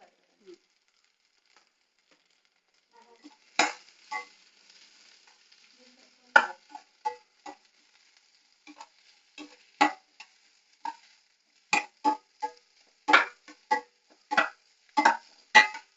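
Onions frying in a pan for Mangalore-style crab sukka (genji sukka), with sparse spatula stirs and scrapes clicking against the pan over a faint sizzle, the strokes coming closer together toward the end.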